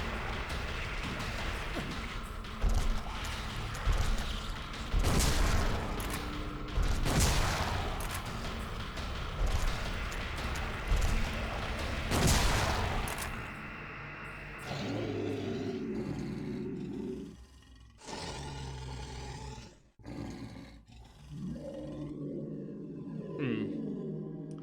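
Gunshots fired in the 2001 survival horror game Silent Hill 2, a run of loud, sharp bangs with game music and ambience, giving way to quieter eerie sounds near the end.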